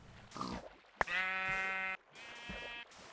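Minecraft pig and sheep calls: a short grunt with a sharp click, then a long, harmonic-rich bleat lasting about a second, followed by a quieter second bleat, close and clear with no talking.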